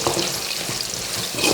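Turmeric added to hot oil for sabsige chitranna, a brief bright sizzle and crackle of frying, close and steady with a slight swell at the end.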